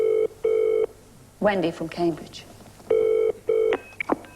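A British double-pulse telephone ringback tone repeats while a call rings out, interrupted by someone speaking a few words over the line.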